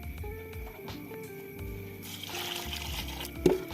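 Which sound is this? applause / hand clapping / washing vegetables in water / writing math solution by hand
washing vegetables in water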